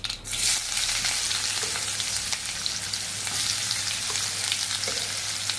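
Onion goes into hot oil with popped mustard seeds for a Maharashtrian sandge chutney, making a sudden burst of sizzle that settles into a dense, steady frying hiss with a few stirring taps and no speech.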